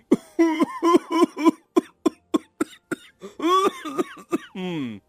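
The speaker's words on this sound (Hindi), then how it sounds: "जोर जोर से खांसने लगता है" Loud, rapid coughing in fits, a long run of harsh barking coughs close to the listener, ending in a rasping, wheezy breath.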